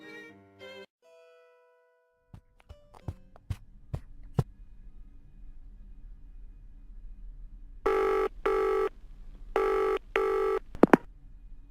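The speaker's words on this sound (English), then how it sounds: "I suppose I should phone him now and be condescended to further." A telephone rings in a puzzle adventure video game, two pairs of electronic bell bursts near the end, preceded by sparse beeps, clicks and tones over a quiet background hum.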